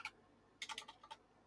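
Someone types on a computer keyboard, with a single keystroke followed by a quick burst of about six clicking keypresses. The sound is soft and close in a quiet room.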